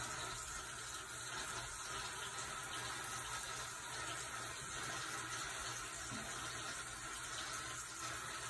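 Steady rush of hot water running from a tap into a sink, constant and fairly close, with no talking.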